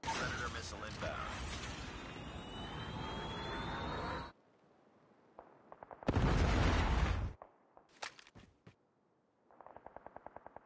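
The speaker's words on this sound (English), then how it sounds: "Predator missile inbound." Missile strike explosions in Call of Duty Mobile gameplay, with a long loud roaring blast, then a short heavy burst after a pause, and a scattering of smaller pops and rapid gunfire toward the end.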